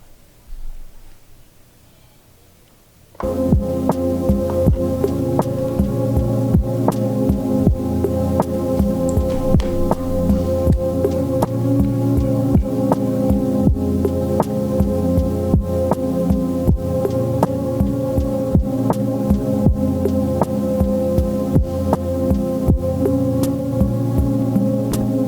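A song played back from a Roland SP-404 sampler starts after a few seconds of near silence, a steady dense mix with a thumping regular beat and sustained hum continuing throughout.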